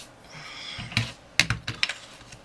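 Paper is punched with a paper punch while making cards, a series of sharp close clicks and snaps, a couple of isolated hits and then a quicker cluster, over a quiet room with no talking.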